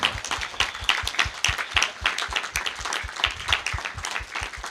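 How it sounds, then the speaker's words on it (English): Wedding guests at a hotel reception clapping for the newlyweds, loud and close with distinct individual hand claps in a brisk, uneven rhythm that carries on steadily throughout. "Please give them a round of applause, please"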